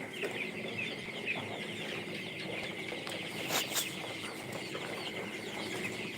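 A flock of around a thousand coloured chickens on a poultry farm clucks steadily throughout, a dense, continuous layer of overlapping calls with a slightly louder burst in the middle.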